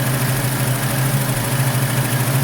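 A 1966 Ford Mustang idles steadily after a small carburetor adjustment, its low engine hum loud and close with a smooth, even pulse.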